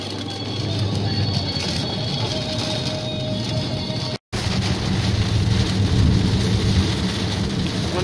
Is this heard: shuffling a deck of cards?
no